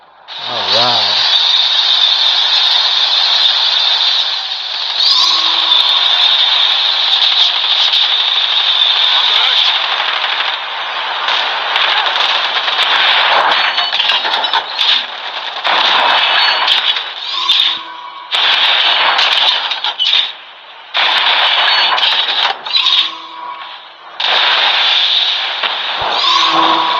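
Tank driving and firing in Call of Duty Mobile's Ground War mode: a loud, sustained mechanical roar with rapid bursts of gunfire that drop out now and then.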